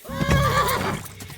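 A horse in the video game Kingdom Come: Deliverance 2 lets out a single loud, close whinny lasting about a second, rising and then falling away, with no speech.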